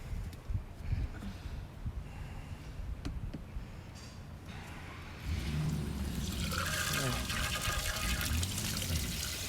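Water is poured into an RV dump hose fitted with an adapter, the tank rinsed and dumped; a steady, fairly loud rushing slosh fills the second half after quieter handling noises and brief talk.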